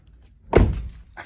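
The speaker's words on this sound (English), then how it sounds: "found the keys, unlocked the door, open the door." A single solid thunk of a second-generation Toyota Tacoma pickup's door, one sharp close-range knock with a brief rattle trailing off and a faint click afterward, with no talking.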